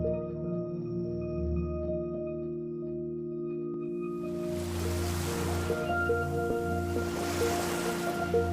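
Ocean waves wash onto a shore in broad surges, with a louder break swelling in partway through and a second rush following, heard over a steady low tonal drone.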